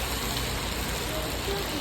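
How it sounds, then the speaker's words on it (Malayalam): Dense, steady hiss of heavy rain pours down without a break, with a voice speaking briefly underneath. "നല്ല മഴലേടി"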